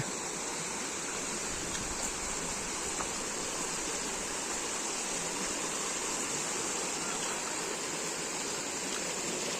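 Continuous rushing water flows steadily onto a farm field, a broad even wash of sound with no pauses and no voices.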